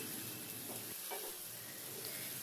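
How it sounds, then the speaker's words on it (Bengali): Eggs being stirred into spiced masala of ginger, onion and garlic frying in a pan, a steady close sizzle with soft scraping strokes of the spoon, no voices. "এবারে ডিমটাকে দেখুন আমি যেভাবে মিশিয়ে নিচ্ছি ঠিক সেইভাবে মিশিয়ে নিতে হবে"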